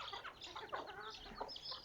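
Hens cluck alongside four month-old chicks from a home flock, the soft, overlapping clucks and chick peeps close and continuous with no talking.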